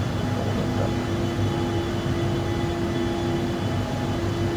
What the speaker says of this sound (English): It is just that propeller you hear